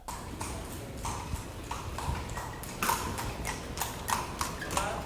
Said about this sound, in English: Here's some samples of horses walking around.